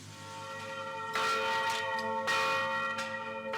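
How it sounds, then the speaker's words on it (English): Church bells in Port-au-Prince ringing together at noon, overlapping resonant strikes every second or so with long humming decay, loud and close, no voices. "All the bells in the country ring in unison at noon sharp."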